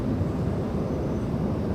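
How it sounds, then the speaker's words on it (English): Emirates Airbus A380 jet departing LAX on runway 24 left at night, a steady low-frequency roar of engine thrust heard at a distance, continuous and fairly loud with no talk over it. "caution right turn with Super Airbus 380 just departed"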